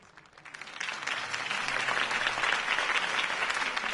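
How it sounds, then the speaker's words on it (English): Crowd applause swells after a campaign speech for Harvey Dent in a Gotham city rally scene from Batman: The Telltale Series, building from a quiet start into sustained, dense clapping that holds steady throughout. "could have heard that applause"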